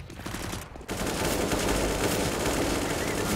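Sustained rifle fire spams through smoke in Counter-Strike on the Inferno map, with a short burst followed by a long, loud, continuous stream of rapid shots.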